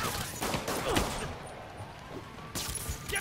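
Gunfire in Marvel's Spider-Man, fairly faint bursts of shots with a cluster early on and another after a quieter stretch, amid game action noise.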